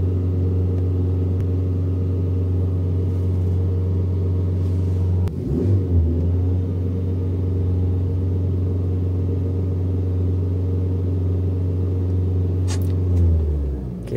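A new Proton Saga 1.5L I-GT engine under full throttle with its rev limit held near 2,700 rpm, a steady low droning hum that dips briefly midway and fades out near the end, heard from close by without speech.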